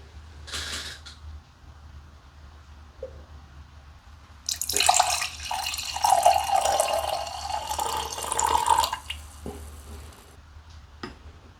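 Homemade 18% ABV alcohol is poured from a bottle in a steady close splashing stream lasting about four seconds, preceded by a brief clink and some handling, with no talking.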